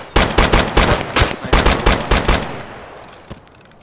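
Rapid gunfire in Escape from Tarkov: a burst of about a dozen loud close shots in quick rhythm, then a pause, one fainter shot and a fading echoing tail.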